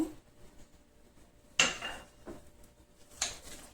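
Chopped apple folded into cake batter in a bowl, a quiet scene broken by three distinct clinks of a utensil striking the bowl's rim at spaced intervals.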